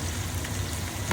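Hot oil crackles and pops in a pan while cooking ginataang langka (jackfruit), a dense close sizzling patter that stays steady and fairly loud through the short stretch.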